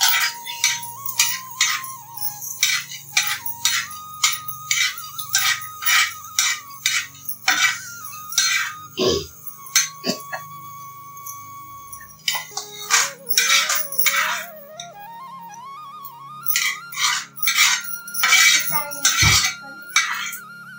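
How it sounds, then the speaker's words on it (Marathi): Chana dal and wheat being dry-roasted in a pan in a village kitchen, with repeated metallic scraping and clinking of a spoon against the pan in a steady rhythm, close and moderately loud, with a faint hum underneath. "धने काढायचे आणि हरभऱ्याची डाळ टाकायची. हरभऱ्याची डाळ भाजल्या जाते."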